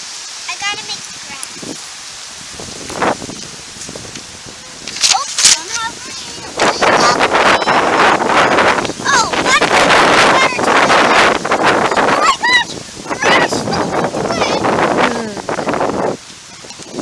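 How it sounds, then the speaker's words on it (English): Strong wind gusting outdoors during a children's outdoor art session, buffeting the microphone with loud, sustained roaring bursts, with children's voices talking over it. "It's definitely windy out here."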